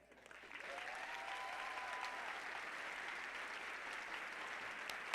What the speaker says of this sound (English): can I get a round of applause for our incredible faculty and staff